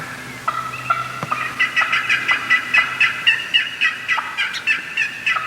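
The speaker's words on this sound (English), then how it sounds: "This gobbler is alarmed for a reason." An alarmed wild turkey gobbler in New York gobbles, with sharp repeated calls and chattering notes pulsing steadily and fairly close, other birds faintly responding in the distance.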